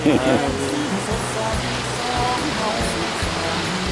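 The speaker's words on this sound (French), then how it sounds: "nous accédons à la cascade de Tad Yuang, qui elle atteint une hauteur de 40 à 45 mètres" The Tad Yuang waterfall in Laos, a cascade some 40 to 45 metres high, gives off a constant broad roar of falling water, with voices speaking over it.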